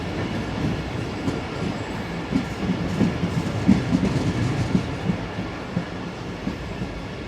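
Steady rumble and rhythmic clickety-clack of a train running along a Pakistan Railways line at night, heard from on board at moderate loudness with no talk.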